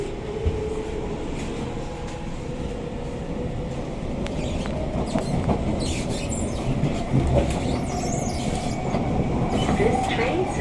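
An SMRT C651 metro train runs from Bukit Batok to Jurong East in Singapore, recorded inside carriage 2202 near the doors: a steady rumbling drone with rail clatter and faint wheel squeal, loud and continuous.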